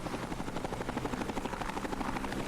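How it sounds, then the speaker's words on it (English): Helicopter in the online game Entropia Universe, a steady, close rotor chop with rapid even pulses that stays loud and constant throughout, with no talking. "can also get a helicopter."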